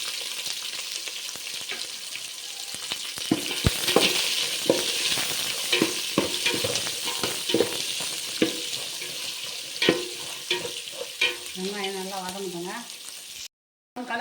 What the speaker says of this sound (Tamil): இப்போ வெங்காயத்தை போட்டுக்கலாங்க வெங்காயம் நல்லா வதங்கணும்